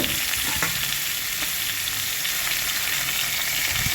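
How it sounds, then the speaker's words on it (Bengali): Mixed vegetables for shukto fry and are stirred in a pan, giving a steady, close, continuous sizzle with occasional scraping stir sounds and no talking. "ঢাকনা খুলে ভালো করে সবজিটাকে নেড়ে নেব"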